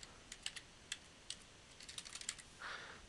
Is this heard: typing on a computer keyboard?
yes